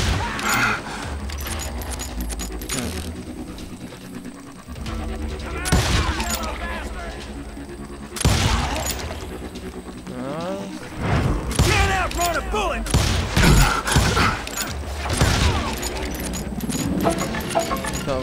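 Repeated gunshots and volleys in the Western game Call of Juarez: Gunslinger, sharp and loud, fired in irregular clusters amid game noise, with voices talking between and over the shots.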